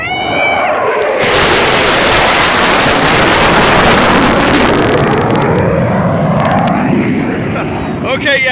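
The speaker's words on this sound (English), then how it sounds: "Okay, yeah, double afterburner." Thunderbirds jet at an air show roaring past on double afterburner, a loud continuous broadband rush that swells and fades over several seconds, with people talking over it.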